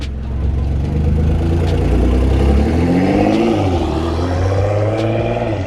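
A BMW M3 engine revving loudly as the car drives, heard from outside at close range, its deep note rising and sweeping in pitch and staying strong throughout.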